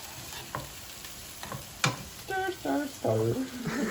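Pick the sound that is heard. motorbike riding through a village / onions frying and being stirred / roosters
onions frying and being stirred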